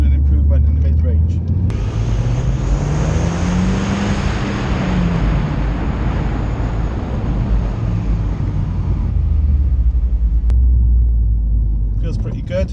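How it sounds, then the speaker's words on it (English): A Mitsubishi EVO X pulls hard in second gear, its engine note rising in a steady, loud rumble for several seconds before easing off, heard from inside the car. "So I'll just do a second gear pull. I'm not really going to thrash it too hard."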